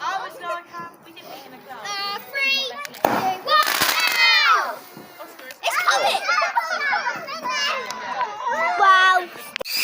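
A Catherine wheel firework fails on bonfire night, giving hissing, crackling bursts amid excited shouting and chatter from children nearby.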